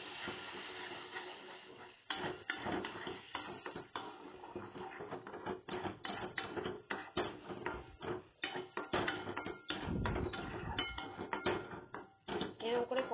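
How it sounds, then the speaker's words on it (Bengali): Spices with cumin, coriander and turmeric being stirred in a cooking pot for a Bengali shukto, giving repeated metallic scraping and tapping of a utensil against the pot in irregular bursts, fairly close, with occasional background voices. "একটু ভালো করে নেড়ে নিই।"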